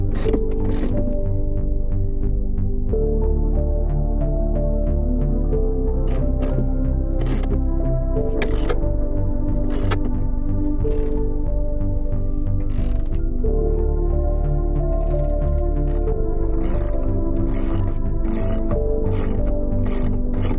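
A hand ratchet working on 19mm body bolts of a Ford E-350 Econoline van with a 460 V8, rapid clicking bursts repeating over a steady mechanical hum, close up.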